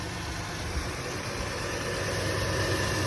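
A Buick Rendezvous engine idles after a rusted fuel line was replaced, giving a continuous, even low rumble with steady broadband noise and no voices over it.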